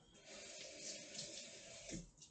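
A kitchen tap runs steadily into a sink while something is rinsed with soap, water splashing and gurgling close by with slight shifts in flow and no talking.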